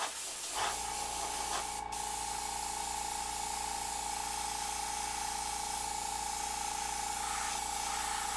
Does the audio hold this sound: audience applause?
no